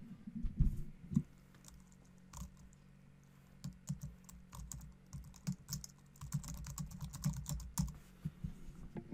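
Someone types an email address on a computer keyboard, producing quiet, irregular bursts of close key clicks and taps with short pauses between them. No voices are heard.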